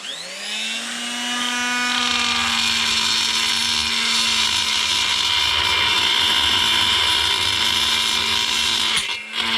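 A high-speed power tool grinds while porting the exhaust ports of a Super 1600 engine, its whine rising as RPM climbs, then holding a loud, steady, close scream before stopping abruptly at the end.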